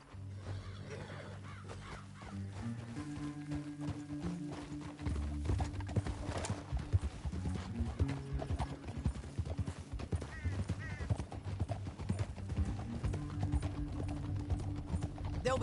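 In the video game Red Dead Redemption 2, rapid hoofbeats of a galloping horse drum steadily over a low musical score, the pounding growing louder and denser partway through.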